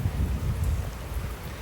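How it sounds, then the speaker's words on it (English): Rain hisses steadily during a thunderstorm in California, a dense low rumbling wash with no distinct thunderclap, close and continuous throughout. "this is a thunderstorm that's happening right now."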